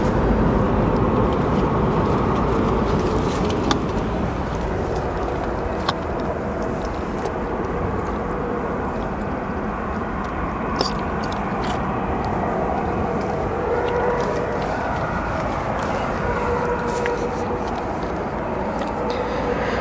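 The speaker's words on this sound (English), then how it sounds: "I hope you all can enjoy that reverse thrust as much as I can." Heavy airliner landing at O'Hare airport with reverse thrust, a steady loud broadband roar that holds for the whole stretch, distant and continuous.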